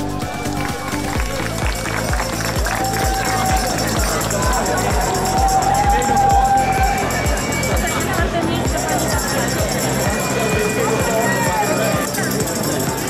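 Steady crowd clapping fills an outdoor award ceremony for a night half marathon, continuous and dense throughout, with an announcer's amplified voice over it.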